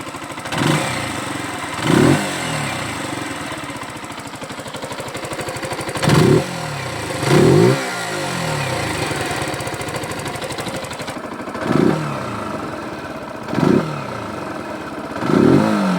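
A Zontes Hyper Trail motorcycle engine runs close by, a steady idle punctuated by several short, sharp throttle blips that rise and fall at irregular intervals.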